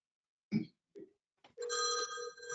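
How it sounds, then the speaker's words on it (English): A mobile phone starts ringing with a steady electronic ring tone after a few brief soft knocks and handling sounds, quiet and fairly close. "why don't you call her on your cell phone?"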